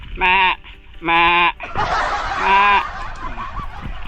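Goats bleat loudly and close by, two sharp calls followed by a longer, wavering bleat over faint background noise.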